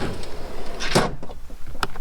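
A sliding drawer in a Toyota Tacoma TRD Sport truck bed is pulled out with a short scraping rush, followed by a lighter knock near the end, close by.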